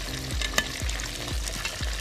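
A spoon stirs milk and cream in a pot on the stove, scraping the bottom in four steady, regular strokes over a constant low sizzle, with no talking.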